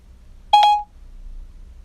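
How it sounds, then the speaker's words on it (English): A single short electronic beep from the Siri voice assistant, a clear tone lasting about a third of a second, heard alone after silence. "Although she didn't need the beep at the end, right?"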